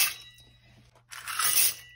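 Dry spiral pasta tips into a pot of turkey soup, starting with a few light clinks and then a short, dense rattling rush of pieces spilling in before it fades.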